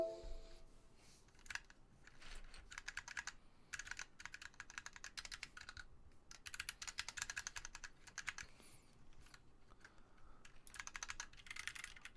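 Typing on a computer keyboard with new keycaps, rapid bursts of keystrokes with short pauses, close and clear with no talking.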